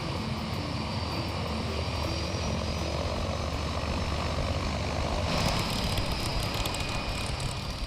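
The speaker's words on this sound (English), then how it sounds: "The Grumman Mallard is a twin turboprop design." Twin turboprop engines of a Grumman Mallard seaplane running, a loud continuous roar with a steady whine, heard up close and without pause.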